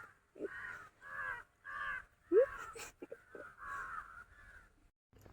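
Crows caw loudly and nearby in a series of about eight harsh calls spaced by short pauses, with no talking.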